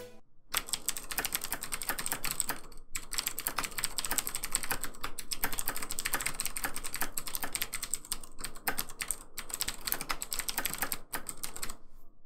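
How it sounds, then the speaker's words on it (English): Fast, continuous clicky typing on mechanical keyboards, a Redragon Kumara K552 compared with a Razer BlackWidow with Cherry MX Blue switches, dense close keystrokes with a few short pauses. "Here's a sound test comparing the Redragon Kumara to my Razer Black Widow, which has cherry MX blue switches."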